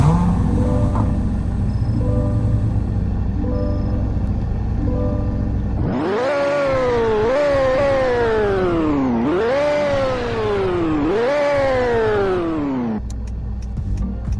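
A Corvette engine in a video game revs up repeatedly after steady idling, with four rising, wailing pulls that each climb in pitch and then drop, loud and close, with no talking.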